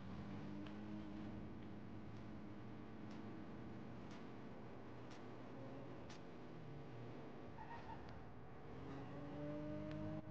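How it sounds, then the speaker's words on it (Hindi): Engine hum of a driverless car rolling along in the GTA 5 video game, steady and continuous, with faint ticking and a rising engine note near the end. "अपने आप कैसे चल रही है गाड़ी"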